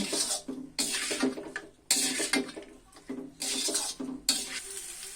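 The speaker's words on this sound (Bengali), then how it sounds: "আবারও আমি মশলার সঙ্গে কাঁঠালগুলো ভালোভাবে ভেজে নিব।" Jackfruit pieces frying with spices in a pan, loud bursts of sizzling alternating with clanking and scraping of a utensil against the pan, close and busy throughout.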